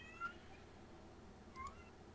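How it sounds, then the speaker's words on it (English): A cat meows twice, short and faint, with a pause of over a second between calls, heard over a low steady room noise. "I heard meowing so loud"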